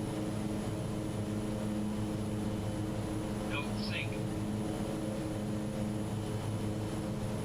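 Steady drone of the Aerosoft Twin Otter twin-turboprop climbing away after departure in Microsoft Flight Simulator, a constant loud hum with fixed tones that holds throughout and a brief faint chirp midway.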